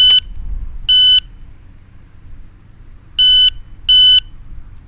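Four sharp, high electronic beeps sound at uneven intervals, loud and close, with faint rustling and background noise between them.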